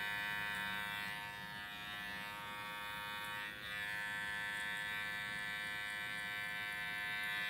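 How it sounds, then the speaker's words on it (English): Electric hair clippers buzz steadily and close at hand while trimming a boy's hair, a continuous even drone with one brief dip partway through. "do some clipper over comb, clean up his hairline"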